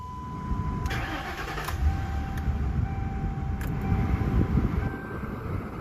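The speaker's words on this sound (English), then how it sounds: "let's get the car started." A 2011 Crown Victoria Police Interceptor engine cranks and catches, settling into a steady, close mid-pitched idle with a faint whine above it.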